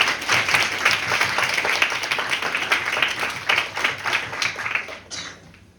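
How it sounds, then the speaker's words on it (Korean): Audience of student delegates at a Model UN closing ceremony giving a big round of applause, loud rhythmic clapping that holds steady and then tapers off at the end. "큰 박수 부탁드리도록 하겠습니다"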